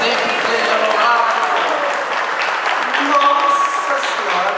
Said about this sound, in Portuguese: As palmas eu vou considerar que estão boas